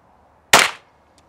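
The trigger of a Ruger LC Carbine in 5.7x28mm breaks in a dry-fire click. It is a single sharp, close snap that fades quickly into quiet, with no voices.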